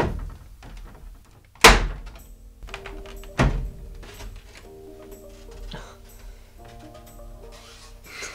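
A 3D printer enclosure door for an Ender 3 Pro, with modified corner pieces, is fitted and shut, giving two sharp thunks followed by quieter handling knocks and taps close by.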